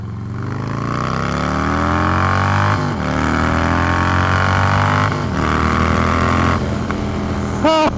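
Harley-Davidson Low Rider S with a 117 cubic inch engine accelerating hard through the gears, a loud, close engine roar rising in pitch with sharp drops at each shift and wind rushing over it.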